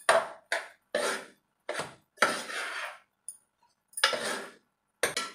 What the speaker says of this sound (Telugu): సో రైస్ అనేది పప్పులో వేసేద్దాం. చూసారు కదండి, రైస్ వేసేసాము. మిక్స్ చేద్దాం ఒకసారి బాగా పప్పుని.